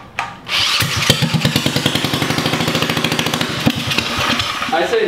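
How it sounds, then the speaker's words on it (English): Predator 212 small single-cylinder engine fires up and runs with a loud, rapid chugging beat that rises and falls as it is revved, close by, with a few voices briefly in the background. "Maybe I'll try and rev it up a bit and then turn off, turn choke off."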